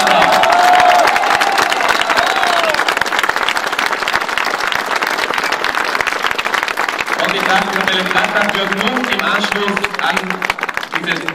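A crowd applauds a Trachtkapelle brass band at an outdoor district music festival in Sillian, with steady loud clapping throughout and a voice speaking faintly underneath.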